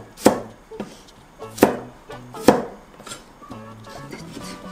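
Three sharp knife chops cut through thick garlic scapes on a cutting board about a second apart, followed by quieter handling and light tapping sounds.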